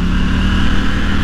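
A KTM Duke 790 motorcycle running on its original exhaust gives a loud, steady, throaty drone up close, with no speech, lasting just over a second.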